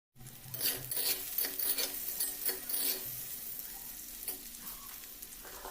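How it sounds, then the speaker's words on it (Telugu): Chili powder and salt fry in a pan for curry, giving a steady crackling sizzle with scraping stir strokes near at hand and no voices. "కాబట్టి కారాన్ని 2 నిమిషాలు వేయించండి"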